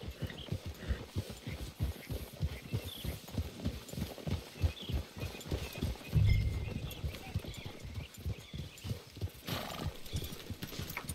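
Horses in the Red Dead Redemption 2 video game clip-clop steadily at a walk, close and rhythmic, with a brief whinny partway through and faint voices in the background.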